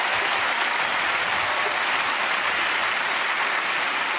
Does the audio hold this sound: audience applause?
yes